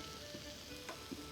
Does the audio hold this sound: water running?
no